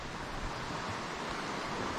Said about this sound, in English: There's the Clear Fork Creek